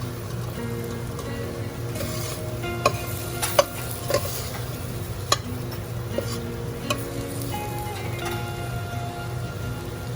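Spices with turmeric, coriander powder and chili powder are stirred in a hot pan for traditional sambar, a steady close sizzle under repeated scraping strokes and occasional sharp utensil knocks against the pan, no talking.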